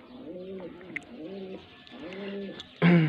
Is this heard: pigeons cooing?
yes